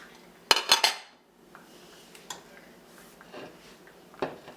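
Ceramic plate lifted off a pot of grits on a stovetop, giving a quick cluster of three sharp clinks near the start, then quieter scattered kitchen clatter and a final soft knock.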